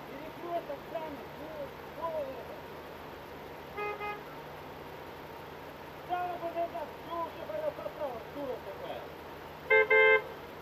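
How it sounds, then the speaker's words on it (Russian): Car horns honk in short bursts in a vehicle after a road accident: a few faint toots scattered over a quiet background, then a louder double honk near the end, with occasional talk. "Давай я тоже побибикаю."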